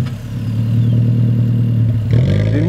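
An Alfa Romeo 4C Spider engine cranks and fires up, settling into a steady idle before revving sharply near the end, loud and close with no talking.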